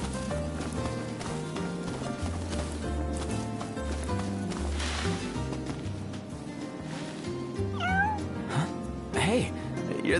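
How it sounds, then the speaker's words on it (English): A stray cat in the Final Fantasy XV video game meows several short times over rhythmic background music, with talking mixed in. "Hey, you're the cat we saw in Galden."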